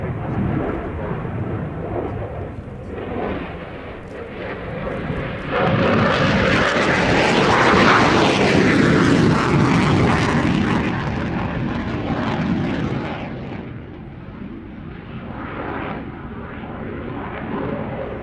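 A MiG-29 jet fighter roars past, its engine noise swelling to a loud peak midway and then easing off into a sustained rumble with no voices.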